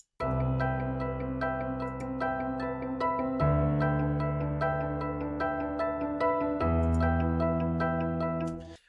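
Pluck synth and piano from an uptempo FL Studio beat sound together, steady ticking plucks over sustained chords that shift twice, with no voices.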